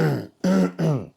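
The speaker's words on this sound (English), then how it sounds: "Sorry for my coughing." A man coughs or clears his throat close to the microphone, three quick harsh bursts in a row, with no talking.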